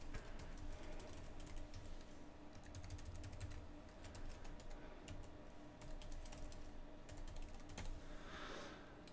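Someone types on a computer keyboard, a quiet run of close clicking keystrokes in an irregular rhythm against faint background hiss.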